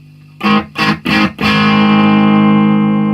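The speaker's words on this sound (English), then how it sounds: "gives it a bit more distortion because the valves are working harder because it's a full valve amplifier" Distorted electric guitar through a full valve amp head: three short choppy chords, then one chord left ringing and sustaining loudly with a gritty, saturated tone.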